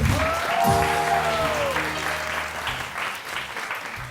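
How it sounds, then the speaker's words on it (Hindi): Studio audience applause on an Independence Day morning TV show: a brief burst of clapping mixed with sustained tonal music or jingle notes, fading toward the end. "बहुत सारी तालियां मोहम्मद अली शेखी साहब के लिए"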